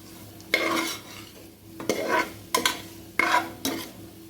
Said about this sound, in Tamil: தக்காளி நல்லா வெந்துருச்சு. இதையும் சேர்த்து நல்லா கிண்டி விட்டுடலாம்.